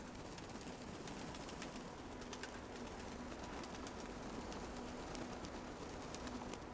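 Faint cooing from Kirovohrad pigeons repeats softly over a dense, steady background hiss, distant and low in level.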